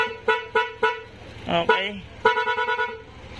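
A Yamaha NMAX V2 scooter's stock horn sounds in three short evenly spaced beeps, then after a brief spoken word a longer stuttering burst of the louder added horn, close by.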